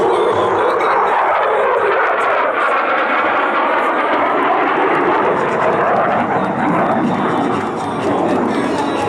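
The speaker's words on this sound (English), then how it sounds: "In from the left, the F-16 and the 4-point roll." F-16 fighter jet flying a four-point roll at a military airshow, a loud continuous roar with a slowly shifting pitch that fills the whole stretch, with no break in the sound.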